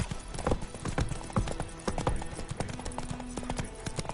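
Hooves of the horse Roach trotting in The Witcher 3 video game, a rhythmic clip-clop of repeated hoof strikes, moderately close and fairly quiet, with faint game ambience underneath.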